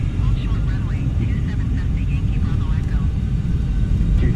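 An F-14 Tomcat's jet engines drone steadily in Microsoft Flight Simulator during a touch-and-go approach to runway 27, a continuous low roar with a voice talking over it.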